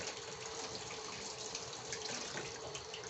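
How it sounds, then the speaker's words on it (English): Pan handles being washed under a running kitchen tap, with a steady, close gush of water splashing continuously throughout and no talking. "So we do like to wash our handles."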